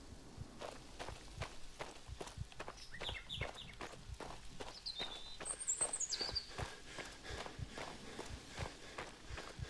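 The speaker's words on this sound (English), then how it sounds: "I really like the sounds. I mean, the footsteps, the birds chirping." Footsteps in the video game Maid of Sker thud steadily and softly across ground in an outdoor garden, with faint bird chirps calling above them.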